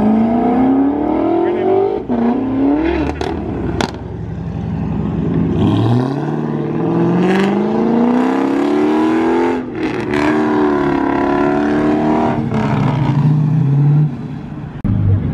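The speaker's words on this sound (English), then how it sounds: "Got the Pandem Porsche heading out." A Pandem-kitted Porsche supercar revs hard and accelerates away from a Dallas car meet, its loud engine rising through several gear pulls, with other cars and voices around.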